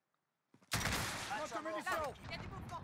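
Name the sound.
rocket fired in video game Call of Duty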